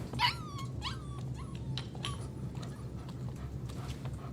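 A dog whimpers and whines insistently in the video game Life is Strange 2, several high, drawn-out whines over a low rumbling background, with a few faint clicks and thumps between them.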